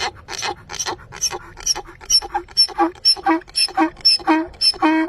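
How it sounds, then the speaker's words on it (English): A donkey brays in a rapid rhythmic series of wheezy, laugh-like hee-haw pulses, about a dozen close bursts that grow louder and more tonal toward the end. "Top 2. The Laughing Donkey."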